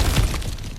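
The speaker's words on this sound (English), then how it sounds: "Ah, back to smashing through things for fun and profit." Objects shattering as Kratos smashes through them in God of War Ragnarök, a single loud, close crash of breaking debris with a bright glassy burst that quickly tails off.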